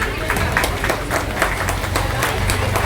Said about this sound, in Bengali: একবার জোরে হাততালি।